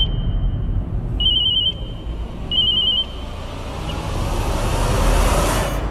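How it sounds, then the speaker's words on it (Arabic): A mobile phone rings in repeated short electronic trilling bursts over a rumbling background. "الموبايل، شوفي مين عم يتصل"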